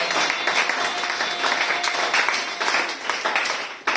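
A church congregation applauds, sustained dense clapping from a large crowd heard continuously and fairly loud throughout.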